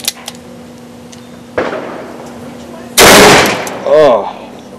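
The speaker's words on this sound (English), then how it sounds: "Oh, I'm shooting low though." A Ruger Blackhawk .41 revolver fires at target practice, two loud, sharp shots a second or so apart, each with a short ringing tail, after faint earlier clicks, with a brief voice between them.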